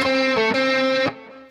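A short blues lick played on the major blues scale with a distorted, effects-laden tone: a few quick sustained notes changing pitch in succession, ringing loud and clear before cutting off.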